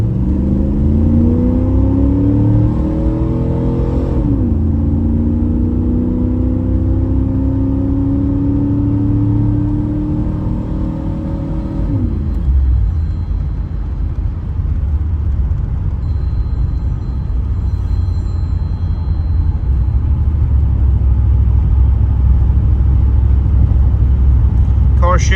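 1986 Pontiac Firebird Trans Am engine pulling hard through the gears, rising revs broken by distinct shift drops, loud and close, then settling into a steady rumbling cruise, with people talking over it.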